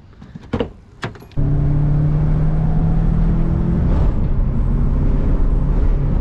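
Nissan 240SX on a test drive: a few brief clicks and thumps, then the engine starts and settles into a steady, loud, close rumbling idle with a droning tone.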